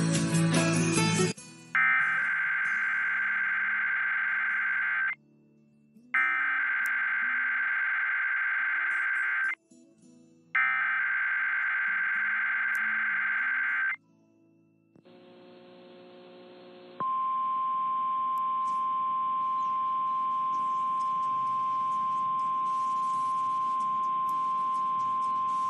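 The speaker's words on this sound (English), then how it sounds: "This is a test of the emergency alert system and NOAA Weather Radio's warning alarm." An Emergency Alert System test sounds three long bursts of harsh buzzing data tones separated by brief gaps, followed by the steady two-tone warning alarm held alone for several seconds.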